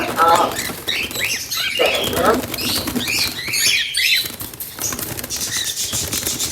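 Pet birds flap their wings amid bird chirps during a bird delivery in intense summer heat, a busy, fluttering patter with voices nearby.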